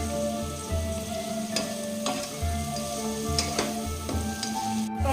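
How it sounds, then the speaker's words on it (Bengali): Chopped tomato with turmeric and salt fries in a pan, a steady close sizzle with occasional scraping stirs of a spoon and soft crackles throughout. "টমেটোটা ভাজা হচ্ছে"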